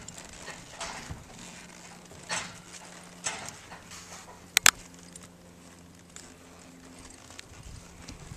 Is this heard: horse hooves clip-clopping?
yes